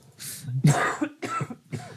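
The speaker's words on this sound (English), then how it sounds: "I'm coughing because I ran before the podcast, so I'm a little bit dry." A man coughs and clears his throat several times in quick bursts, close and fairly loud, dry from having just been running, with no talk over it.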